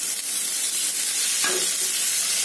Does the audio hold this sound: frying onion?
yes